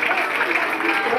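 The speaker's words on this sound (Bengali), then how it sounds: "সবাই তাদের সঙ্গে হাততালি হয়ে যাক।" Applause for students at a school prize ceremony comes as a brief, dense patter of many hands clapping at once, steady and fairly loud.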